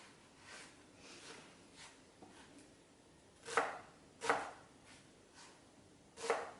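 A knife roughly chops leeks on a cutting board for sukiyaki don, three sharp close thuds spaced a second or more apart over faint kitchen background.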